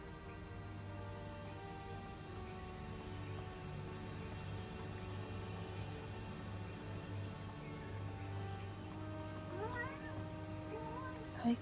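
A small cat meows faintly now and then against a steady indoor background hum, with no voices.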